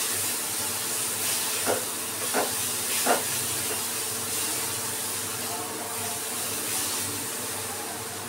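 Spices with turmeric frying in a pan for a prawn and taro-stem dish, a steady hissing sizzle with a few soft stirring scrapes near the start.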